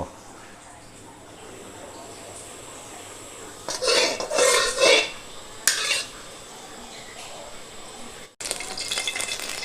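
Food stir-frying in a hot pan with a little vegetable oil, bursts of loud sizzling and scraping start partway through, then die off before a steadier hiss returns near the end.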